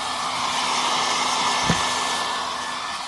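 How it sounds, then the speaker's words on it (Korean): A hair dryer blows steadily and loudly, a constant broadband whoosh with a faint motor whine, running without a break the whole time. "드라이기를 말리고 있습니다."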